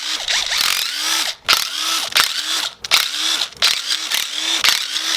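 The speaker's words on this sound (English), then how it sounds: "we just have to remove our oil pump, which is held in by a few 10mm bolts" Power tool spinning out 10mm bolts holding the oil pump on an RB25 engine during a teardown, in a run of short bursts that whine up and cut off with brief gaps between them, close and loud.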